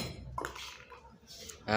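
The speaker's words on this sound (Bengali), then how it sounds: "প্যাকেট খুলে মিক্সারটি বের করলাম" A shower mixer being taken out of its packet gives brief clinks of metal and rustling packaging, with a sharper metallic knock at the end.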